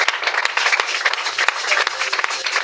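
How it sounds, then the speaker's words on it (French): A church congregation claps loudly in rapid, dense applause that holds steady throughout the moment, with sharp individual claps standing out near the front and voices faintly mixed in. "Acclamons d'abord très fort"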